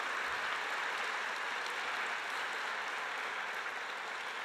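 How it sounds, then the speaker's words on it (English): An audience at a university women's center 50th anniversary keynote applauds donors, a steady, even wash of clapping heard from a distance that sustains without a break for several seconds. "let's give them a round of applause"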